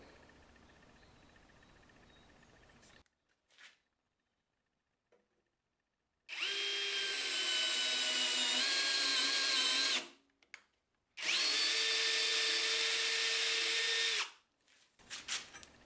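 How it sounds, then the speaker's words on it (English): A power drill drives an M6 tap to thread holes, in two loud sustained runs of whirring with faint quiet handling sounds in the pauses between them. "I'm going to thread all the end holes here with M6 tab"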